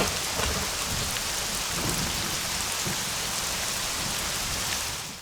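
Steady rain pours throughout with a rumble of thunder beneath it, a dense, constant wash of falling water at even loudness, with no voices, as heard in a Malayalam stage drama.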